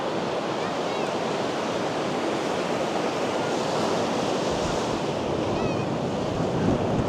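Ocean surf crashes and wind roars at a beach at Navarre during a hurricane storm: a dense, unbroken wash of breaking waves and gusty wind noise, steady throughout.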